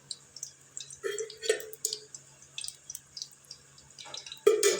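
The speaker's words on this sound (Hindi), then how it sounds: "मैं सिर्फ इसमें एक ये वाला बड़ा चम्मच घी का डालूँगी" A big spoonful of ghee dropped into a cooking pot for dhaba-style dal: soft wet drips and light clicks scattered over a few seconds, with a louder splat near the end, fairly quiet overall.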